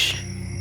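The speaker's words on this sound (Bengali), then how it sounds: "এবং ঝিঝি পোকার ডাক শোনা যাচ্ছে" Crickets chirp near an old graveyard at night, a brief, soft, high-pitched trill that fades quickly within a thin steady background.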